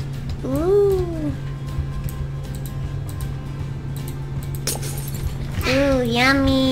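Glass shatters in the Roblox game as one sharp, brief crash midway, surrounded by excited voices talking and exclaiming over a steady background hum.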